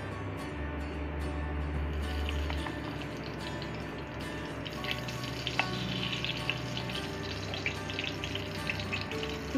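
Ghee hisses and sizzles in hot oil in a pan with marinated chicken for Bengali chicken chaap, a steady close-up crackle with small pops, under a low hum that drops out early.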